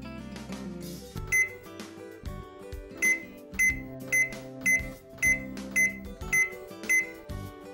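Electronic beeps sound as buttons are pressed on a Zojirushi bread machine control panel: about a dozen short, bright tones in a fairly regular rhythm, close and clear over faint background music.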